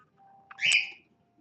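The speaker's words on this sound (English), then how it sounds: "Never mind my bird. He is so yelling at me today." A pet bird lets out a single loud, shrill call close by, with a quick soft note just before it, in an otherwise quiet room.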